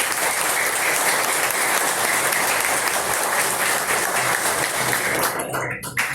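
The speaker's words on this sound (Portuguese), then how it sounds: "uma salva de palmas para a Salete" An audience at a motivational lecture gives a sustained, loud round of applause for a firefighters' representative, a thick steady clapping that continues for several seconds before briefly thinning at the end.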